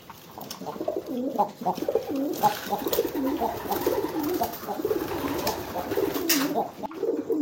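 Soft, repeated cooing of a moulting pigeon, low throaty warbles rolling on steadily throughout, fairly close, with no talking.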